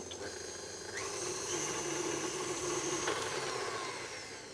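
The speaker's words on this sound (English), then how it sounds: "Once the sugar and butter's all blended together, whack up the speed, and on high, make it nice and pale and fluffy." A stand mixer whirs steadily on high speed, beating sugar and butter until pale and fluffy, a continuous motor drone with a faint hum and a small shift in pitch partway; no talk.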